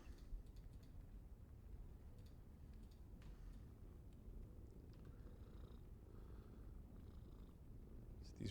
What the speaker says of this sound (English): maybe you can hear her purring